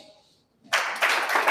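Audience applause at a live wellness event bursts in after a near-silent moment, loud and sustained with swelling peaks of clapping.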